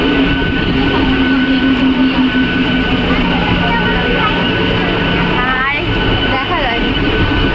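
A passenger train bound for Howrah rumbles along with a steady, loud roar and faint tonal whines from the running gear, a continuous moving-carriage drone heard from inside while people talk over it.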